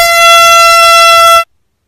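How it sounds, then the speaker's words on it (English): A single loud, sustained air horn blast blares for over a second, then cuts off abruptly into silence. "Air horn prank."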